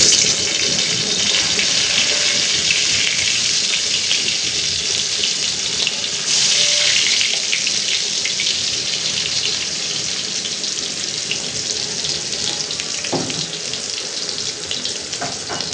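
Pointed gourd (potol) pieces frying in hot oil in a home kitchen, a steady broadband sizzle and crackle that holds throughout, fairly loud and close, with no talk over it.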